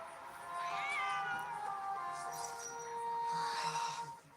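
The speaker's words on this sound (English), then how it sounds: "Wait, is that the cat?" A cat meows in a Genshin Impact-style game scene, with drawn-out rising and falling mews carried over a steady musical background; the calls are close and clear.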